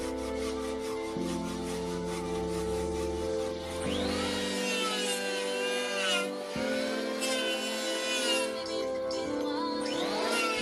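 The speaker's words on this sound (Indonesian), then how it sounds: "Mereka menggergaji kayu yang akan digunakan sebagai hiasan dinding." Wood being sawn by hand to make a wall decoration: steady repeated rasping strokes, fairly loud and close, with the saw's pitch rising and falling as the strokes go on.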